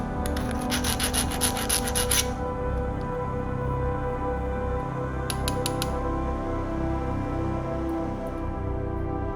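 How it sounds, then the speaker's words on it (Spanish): A file rasps burrs off a quarter-inch drilled hole in metal, steady scraping strokes in a quick run at first, then a shorter burst, fairly faint and close, with no talk. "Limamos las rebabas."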